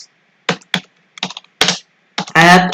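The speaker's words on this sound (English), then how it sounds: "Let me go to the Visual Studio Code and start typing." Typing on a computer keyboard in a code editor, a handful of separate sharp key clicks spaced irregularly, close and fairly loud, with a brief burst of speech at the end.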